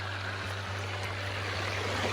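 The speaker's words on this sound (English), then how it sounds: "The water running down the pipe." Water runs down a pipe at an outdoor waterline repair, a steady broadband rushing and trickling that holds level and close throughout, with a low hum beneath and no talking.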